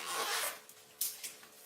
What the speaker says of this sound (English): they're simply going to put it on the seam, and they're going to basically disconnect the zipper